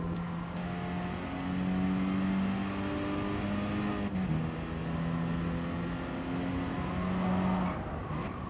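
Race car engine in Gran Turismo Sport, a sustained whining drone that climbs and drops through shifts, steady and moderately quiet throughout.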